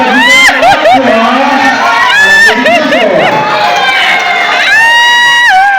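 A loud crowd cheers and shouts with high excited voices, a lively roar of whoops and yelling throughout.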